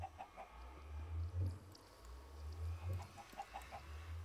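A chicken in the video game Minecraft gives a few faint, soft clucks over a low, steady hum, with short bursts of sound spread across a few seconds.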